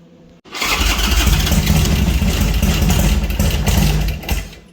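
A 1275 engine cranks briefly, then catches and runs loud and steady close by after a short silence, with no talking.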